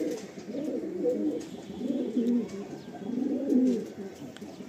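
A male Kaldum pigeon coos in repeated rolling phrases, about three swelling bouts over a few seconds, close and fairly loud with steady low background noise.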